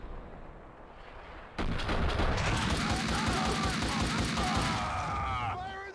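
Loud, dense barrage of explosions and rapid gunfire in the video game Max Payne 2, erupting suddenly after a quieter stretch and continuing as a sustained roar with crackling shots.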